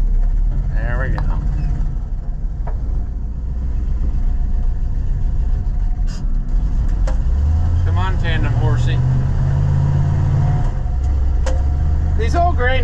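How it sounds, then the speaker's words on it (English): An old grain truck engine runs at a steady low rumble on a farm during bean harvest, loud and close, while people talk over it. "These old grain trucks all run about the same. They have a certain sound to them"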